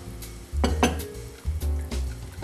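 White wine hits risotto rice coated in olive oil in a pan, giving two bursts of loud sizzling hiss with clinks of a spoon against the pan, close and short.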